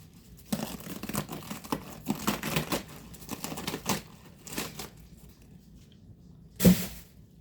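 Lettuce is torn and cut up by hand for a grinder salad, making close, crisp crackling and ripping bursts that come in irregular clusters. The rustling dies down near the end, then one louder snap follows.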